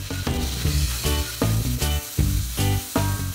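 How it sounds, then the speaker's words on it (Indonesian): Meat, shrimp and squid stir-fry for mie Aceh: loud, close sizzling broken by regular bursts of metallic stirring in the pan, repeating roughly every half second. "campuran daging, udang dan cumi kita goreng dulu aja"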